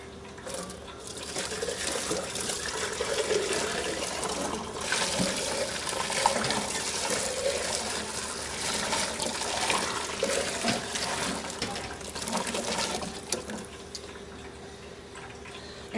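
Water runs steadily from a faucet into a kitchen sink while home canning is underway, a constant close splashing hiss that holds for many seconds, with faint clinks and small knocks underneath.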